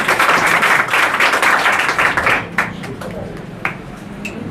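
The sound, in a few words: audience applause at award ceremony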